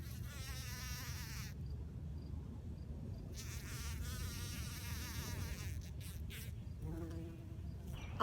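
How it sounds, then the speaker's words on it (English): Bees, wasps and bumblebees buzz around a backyard, several soft whining drones that come and go in bursts over a low steady outdoor hum, fairly close but faint overall. "Wasps, sweat bees, different kinds of bumblebees."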